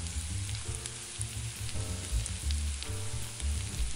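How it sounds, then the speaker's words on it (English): Sausage and rice simmering in a pan while being stirred, a steady close sizzle with low bubbling and occasional scrapes of the spoon, continuous throughout. "Keep stirring while it simmers, as the rice cooks and absorbs the liquids"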